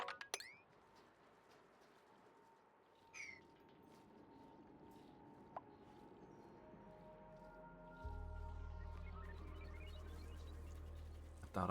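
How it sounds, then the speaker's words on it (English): Soft, squishy wet mopping of spilled water in a video game, faint and intermittent over a quiet background hum that thickens into a low drone toward the end. "Alright, let's mop this up."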